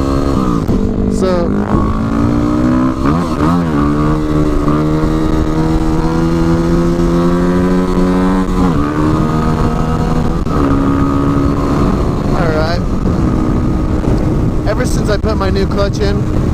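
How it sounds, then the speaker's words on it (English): A Yamaha WR250R supermoto motorcycle rides along, its engine rising and falling through several revving accelerations and gear shifts, loud and close, with steady wind rush throughout. "So I'm gonna go out to some country roads and we're gonna do some wheelies."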